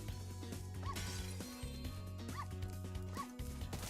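A dog barks repeatedly in Spyro: Year of the Dragon, three short bursts spaced over looping game music and effects.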